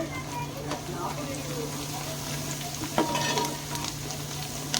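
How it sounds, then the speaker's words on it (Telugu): Curry leaves crackle and sizzle continuously in hot oil, with a low steady hum underneath and a few sharper pops. "ఒక గుప్పెడు కరివేపాకు అనేది ఆయిల్లో వేసుకోవాలి"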